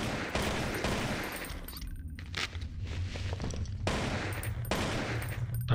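Bursts of gunfire from a gun in the zombie shooter game Zompiercer, loud and repeated in rapid clusters, with brief quieter gaps between volleys.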